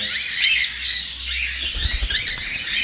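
A pair of peach-faced lovebirds, a pearl fallow hen and a pearl pied cock, give loud, close, shrill chattering calls and squeaks without a break, with a low rumble of handling or movement near the end.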